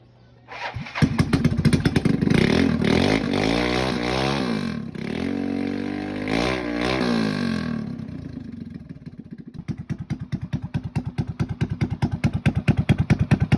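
A motorcycle running with no exhaust pipe roars loudly and close by, revving and fluctuating for several seconds before settling into a rapid, harsh, popping idle.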